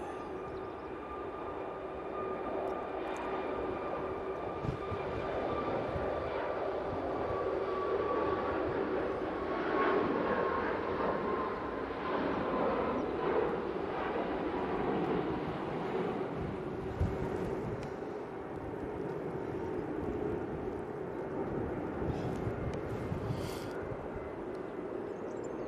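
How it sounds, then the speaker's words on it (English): A Boeing 737 MAX 8 on its takeoff roll at Manchester Airport: a steady, distant jet engine roar with a sustained tonal whine, holding an even level throughout without speech. "Right now in the roll, 737 MAX 8."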